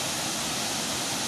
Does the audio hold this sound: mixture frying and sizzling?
no